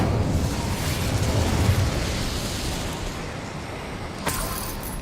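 An Incendio fire spell cast in Hogwarts Legacy bursts as a loud, dense whooshing roar of flame that sustains for several seconds, with a brief sharp crackle near the end.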